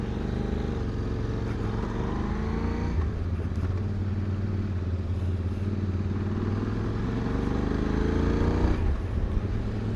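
A QJ Motor 600 adventure motorcycle is ridden, heard from the rider's position. The engine gives a steady, mid-loud drone with rising and falling tones as it shifts and accelerates, and wind noise runs throughout.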